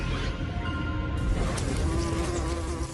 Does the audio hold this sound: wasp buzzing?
yes